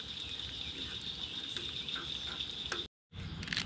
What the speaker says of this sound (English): let's get our eggs in here